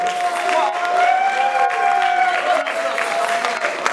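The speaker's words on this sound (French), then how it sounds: "Mesdames et messieurs, un maximum d'applaudissements pour Wayé" A concert crowd applauds and cheers a performer in a large venue, a steady wash of clapping with sustained voices rising over it, loud and continuous throughout.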